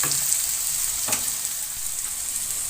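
Chicken frying with okra and spices in a pan gives a steady, bright sizzle that stays loud throughout, with a brief stir or clink partway through.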